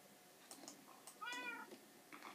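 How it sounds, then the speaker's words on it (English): A cat meows in the Minecraft video game, several short mewing calls with one longer, clearer meow in the middle, fairly faint over a quiet background. "And also, you can meow."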